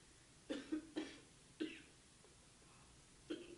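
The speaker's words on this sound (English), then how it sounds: "Yeah, I'd cough too after talking." A handful of short, quiet coughs, two quick ones, then single coughs spaced apart, close to the listener with no talking, during a general meeting.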